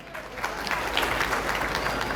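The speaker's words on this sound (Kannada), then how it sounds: "ಜೋರಾದ ಚಪ್ಪಾಳೆ ಬರಬೇಕು" A crowd claps together in sustained, lively applause at a birthday celebration event in K R Pete, building slightly and holding steady.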